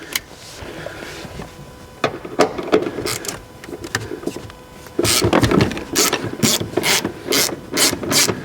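A hand ratchet removes 13 mm bolts while a Chevrolet Camaro SS interior is stripped. Bursts of close, rapid clicking repeat in short runs and grow louder and denser toward the end.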